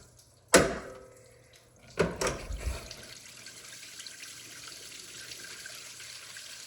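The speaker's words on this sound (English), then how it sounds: "Let it drain." Coolant drains from a 2010–2019 Dodge Ram 1500 during a thermostat change: a sharp splash, then a second gush a moment later that settles into a faint steady trickle.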